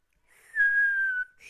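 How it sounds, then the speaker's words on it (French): A single sustained whistle from a person, one steady clear tone held for most of a second, close and fairly loud with no talk around it. "Pardon si je vous ai sifflé dans les oreilles."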